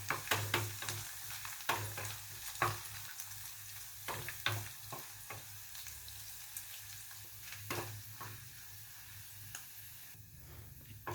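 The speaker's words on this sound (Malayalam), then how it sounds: "കറിവേപ്പില ഇടുക. ഒരു ലൈറ്റ് ബ്രൗൺ കളർ ആവുന്നിടം വരെ ഒന്ന് ചൂടാക്കുക" Curry leaves fry in hot oil for a Kerala parippu (green gram) curry tempering, giving a steady low crackle with scattered sharp pops and stirring clicks, close and fairly quiet, with no talking.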